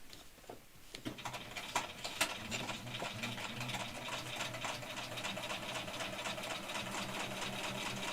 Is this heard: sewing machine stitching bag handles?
yes